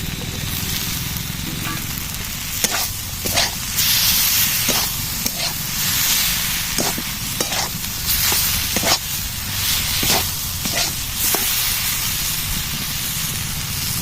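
Fried soybean chunks and capsicum hit a hot pan, giving a loud continuous hiss with repeated sharp crackles and spatters throughout.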